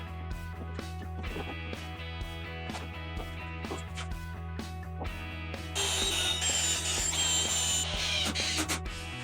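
A power drill drives screws into a wooden planter trellis in short repeated bursts, nearby and moderately loud, with clicks and knocks of handling between runs and a louder whirring stretch near the end.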